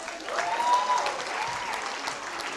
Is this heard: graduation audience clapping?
yes